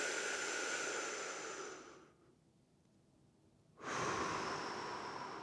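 Slow, deep breaths during a pelvic floor exercise: a long audible exhale, a quiet pause, then a strong inhale, close and breathy with no talk.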